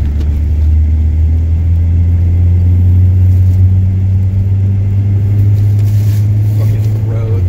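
A car on a winter paper route drives over icy, snow-covered roads. A loud, steady low engine drone and road rumble continue close by for the whole stretch.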